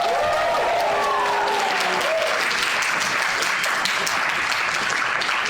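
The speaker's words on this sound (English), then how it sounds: "Let's give her a round of applause." Audience applause at a fashion media awards ceremony, a dense sustained wash of clapping that stays loud and steady throughout, with a brief tonal sound in the first seconds.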